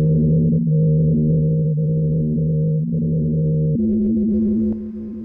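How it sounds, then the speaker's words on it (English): Wind blowing across snow dunes on Antarctica's Ross Ice Shelf produces a steady, low droning hum with sustained tonal layers, shifting pitch slightly partway through, continuous and alone. "what you're hearing there is the sound of winds blowing through snow dunes"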